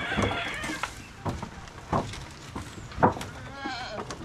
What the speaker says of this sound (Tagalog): Anong lahi ng kambing na to na to? Bower goat.